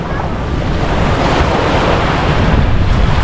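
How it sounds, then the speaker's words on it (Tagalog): Ocean waves wash steadily onto Sinaoga Beach, a continuous loud surf roar mixed with wind buffeting the microphone and no voices. "Ito kami sa Sinaoga Beach."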